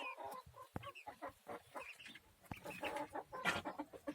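Chickens and a rooster cluck and squawk in short, irregular bursts nearby in a coop with chicks, with a few sharp calls among the busy fowl chatter.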